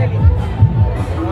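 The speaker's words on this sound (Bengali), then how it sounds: "প্রচন্ড ভিড় না, অনেক কষ্ট হয়েছে যাওয়া।" A packed crowd at a Durga Puja pandal murmurs in a dense, close babble of many voices, heard briefly under nearby talk.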